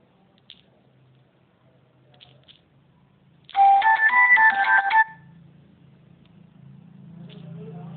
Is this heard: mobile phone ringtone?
yes